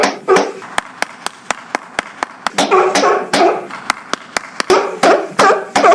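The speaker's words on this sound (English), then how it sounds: "and I clapped" Sharp, loud hand claps at a steady pace, about two per second, run through the whole stretch, some standing alone and others cutting over bursts of talk.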